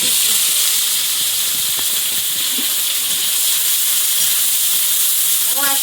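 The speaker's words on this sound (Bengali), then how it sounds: "কড়াই আর একটু তেল দিলাম তেলের মধ্যে পাঁচ ফোড়ন পেঁয়াজ" Loud, steady hissing sizzle of five-spice seeds and onion hitting hot oil in a wok, a bright wash of noise with faint clinks and a brief voice near the end.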